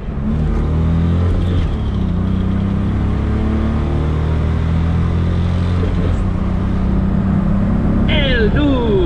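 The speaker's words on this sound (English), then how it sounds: "This car is so slow. But I like shifting this thing, it's fun." Car driving with a short-throw manual shifter: a loud, close engine drone that holds and shifts in pitch as gears change, with people talking over it near the end.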